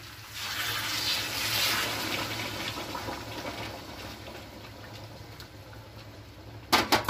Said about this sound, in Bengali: এবারে আমি এই যে জল দিয়ে দেবো